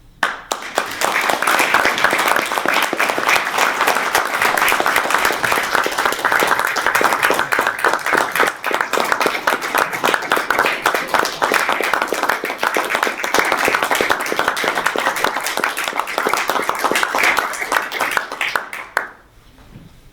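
Audience at a Hunters Hill council meeting applauding SES volunteers: sustained, dense clapping from a room full of people at steady loudness for nearly twenty seconds before cutting off abruptly.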